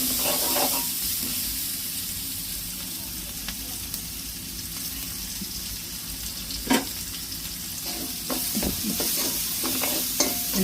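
Food sautés in oil in a home pan with a continuous loud sizzle, while a spatula scrapes now and then, and one sharp knock comes near the middle.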